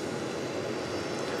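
A Dallas Mavericks Boeing 757 jet idles at Dallas Love Field airport, producing a steady, broad engine roar and whine heard close and continuous, with no talk.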